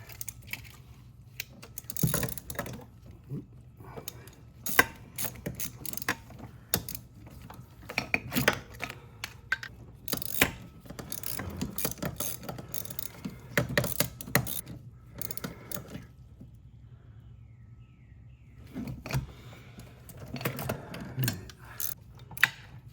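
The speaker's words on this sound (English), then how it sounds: "Snug with the ratchet." A ratchet tightening bolts on a BMW 850i engine, with bursts of quick clicking and metallic tool clatter, close and fairly quiet, separated by short lulls.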